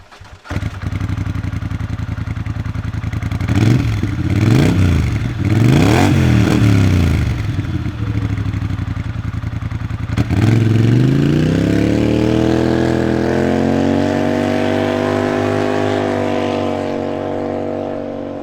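A large engine roars loudly through an oversized, large-diameter exhaust tip, revving up and down in waves, then settles into a deep, rumbling idle that gradually drops in pitch.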